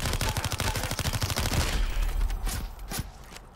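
Rapid automatic gunfire in the video game Super People, a loud fast burst of shots that stops after about two seconds, followed by a few scattered single shots trailing off.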